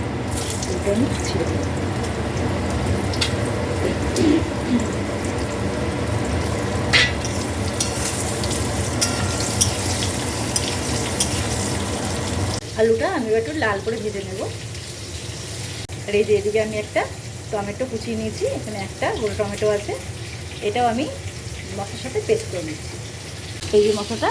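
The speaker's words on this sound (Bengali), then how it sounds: "মাছের তেলেই আমি আলুটা ভেজে নেব" Potato strips fry with turmeric in oil left over from frying fish, giving a loud, continuous sizzle for about half the time. The frying then drops to a quieter crackle, with clinks, a splash of water and a voice speaking over it.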